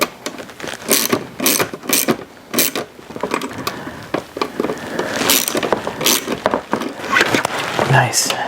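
Wrench ratcheting on a radiator bolt of a 2001 DRZ-400 motorcycle, close sharp clicks and metallic clatter in irregular bursts, with a person speaking at times.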